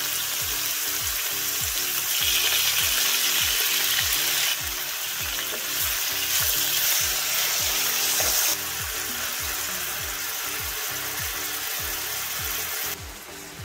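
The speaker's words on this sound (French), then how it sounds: "Une fois l'huile chauffée, je vais ajouter ma viande." Beef sizzling loudly in hot oil, a dense continuous crackle close by, with rhythmic stirring or scraping repeating through it and no voices.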